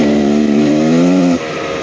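A Beta Xtrainer 300 two-stroke enduro motorcycle engine, a 2023 model, holds a loud, steady buzzing drone that rises slightly in pitch, then abruptly drops as the throttle closes near the end.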